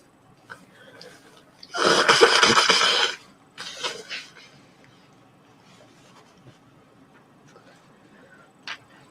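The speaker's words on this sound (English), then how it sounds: "Maybe blow my nose first." A loud, forceful nasal blow lasting about a second, followed by a shorter second blow, then quiet breathing and faint background noise.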